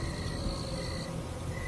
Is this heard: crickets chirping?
yes